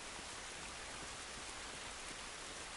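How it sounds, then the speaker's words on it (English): Rain in the video game The Last of Us falls as a steady, even hiss of droplets, continuous and fairly quiet with no voices over it. "It's raining."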